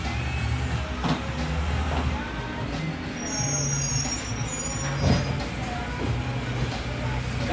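A garbage truck rumbles past outside with a steady low engine drone and a brief hiss of air brakes, heard from indoors at moderate loudness.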